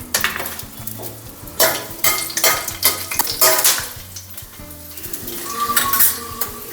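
Unpeeled garlic cloves, about ten or twelve, sizzle in hot oil in a pan for a spicy Kolhapuri misal, with steady frying hiss, repeated close stirring scrapes and clinks of a utensil against the pan.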